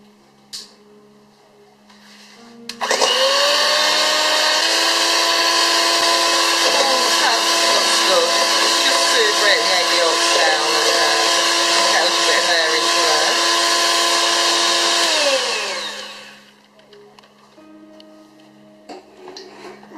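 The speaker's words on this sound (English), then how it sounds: "now I'm just going to whisk these up until they're nice and creamy" An electric hand whisk beats egg yolks for key lime pie, switching on suddenly and running loud and steady for about twelve seconds with a whirring, rattling tone before spinning down and stopping.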